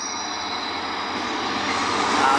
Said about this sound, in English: And this one is a Schenker hauling aggregate wagons.